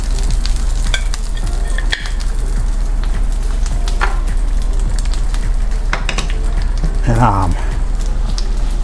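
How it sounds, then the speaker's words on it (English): Sauce being stirred in a cooking pan over a continuous loud sizzle, with scraping and tapping of a utensil against the pan and someone talking briefly over it. "just want to mix in the sauce a little bit more"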